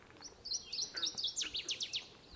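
A northern waterthrush sings a loud, ringing series of sharp chirps that speeds up into a rapid descending flourish, clear against quiet background noise.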